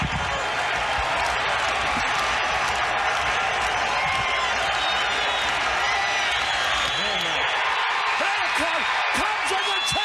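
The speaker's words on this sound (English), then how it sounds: "Listen to this crowd." Large stadium crowd roaring and cheering as the Cubs record the final out, heard as a broadcast replay: a dense, sustained wall of crowd noise with scattered whoops throughout.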